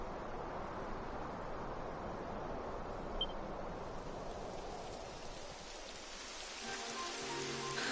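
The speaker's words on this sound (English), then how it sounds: "It would have to go and start raining, wouldn't it?" Steady rain hisses continuously in the video game Dragon Quest XI, a dense, even wash of falling water with no voices and a faint low rumble toward the end.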